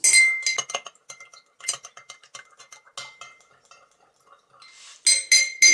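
White rum and cocktail ingredients being stirred in a glass, with rapid bright clinks of a spoon against the glass, tapering into sparse taps before a final burst of louder clinking.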